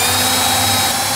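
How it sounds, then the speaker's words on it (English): A power drill fitted with a 3/4 inch Forstner bit bores a hole in a cabinet, a loud, close, steady whirring drone held throughout without pause or talk. "I'm going to have to drill a couple of small holes in here"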